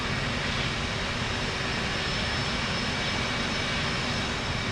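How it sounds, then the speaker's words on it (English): A jet aircraft engine resembling an A-10 in the DCS flight simulator roars as a steady, dense, broadband drone that stays loud and constant throughout with no talking. "That sounds like an A-10."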